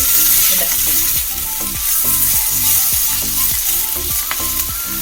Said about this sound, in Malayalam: കോവയ്ക്ക ഒരു വിധം വാടി മണം കുറയുന്നത് വരെ വാട്ടണം